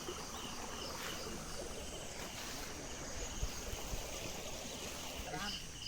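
Near a village on a cold winter morning, a river flows with a constant soft rushing wash, faint and even, with a brief louder splash or thump midway and no clear talking.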